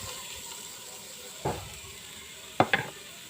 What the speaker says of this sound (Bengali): তারপরে ভালোভাবে ভাজা ভাজা করে নিতে হবে।